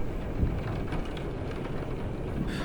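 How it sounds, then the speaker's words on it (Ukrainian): Rain falls outside a window in a horror video game, a soft, steady broadband patter with faint wind-like rushing that is continuous and moderately quiet, with no voices. "Вайбова атмосфера за вікном, дощик."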